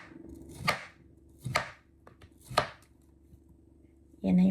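Three crisp knife cuts through kiwi on a cutting board, spaced about a second apart, close and clear over a faint background hum, ending with a louder clatter.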